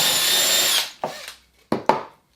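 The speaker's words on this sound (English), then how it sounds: "Keep drilling until this part here makes a little dent for us." A power drill bores into wood while building a bird box, whining loudly for nearly a second, then winding down, followed by a few short bursts of drilling.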